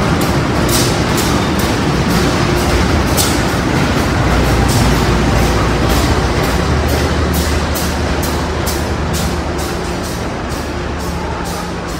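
A high-speed train arrives at a station, rumbling steadily through the whole stretch, with rhythmic clacking as cars roll past, loud and close with a heavy low drone underneath.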